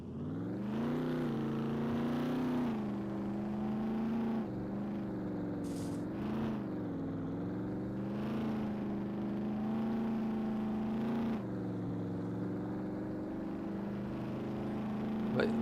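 A vehicle engine in the survival game SCUM hums at a sustained, fairly even pitch with small rises and dips in revs, heard near and continuous with no speech.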